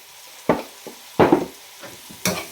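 Pakbet vegetables are tossed in a pan with three or four distinct scraping, sizzling bursts of stirring, separated by quiet pauses.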